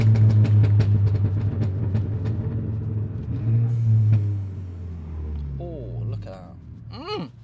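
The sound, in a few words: Volkswagen Scirocco car engine while driving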